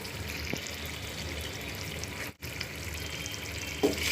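Potato pulao ingredients with salt, green chillies and yogurt sizzling softly in a pan while being stirred, a faint continuous fry with a couple of light scraping touches.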